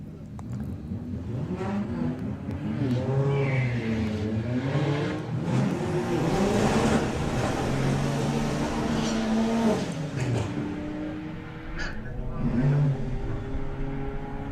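A VW Beetle and an Audi A3 drag race side by side at Santa Pod, engines revving loud and close with rising and falling pitch through gear changes as the cars accelerate away.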